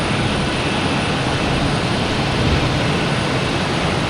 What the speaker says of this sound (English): Japan Airlines coming in from Tokyo, 787-900.